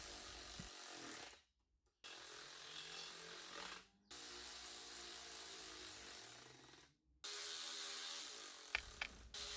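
A power tool runs up bolts most of the way during a Ford Fiesta Mk7 restoration, whirring steadily in three long bursts broken by short pauses, close and loud, with a few sharp clicks at the end and no speech.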